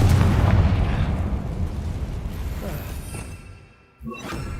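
Confringo fire spell blast in a spell-casting video game: a booming explosion that rolls off and fades over several seconds, then a brief gap before a fresh sharp burst.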